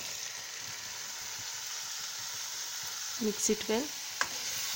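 Mushrooms and tomato fry in a pan with a steady soft sizzle and light crackle, continuous and close, while a voice speaks briefly near the end.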